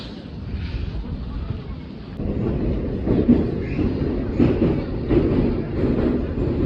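A train riding along the rails gives a steady, close low rumble that turns louder and rougher after the first couple of seconds, with faint irregular knocks running through it.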